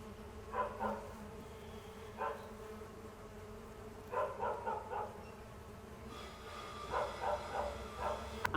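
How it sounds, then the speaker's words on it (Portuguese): Mandaçaia stingless bees hover around their hive box, a soft buzzing that swells in short bursts and fades again, with a low background hum and a few faint thumps. "Ainda tem algumas abelhas aqui que estão ainda seguindo a caixa mãe, sentindo o cheiro do mel"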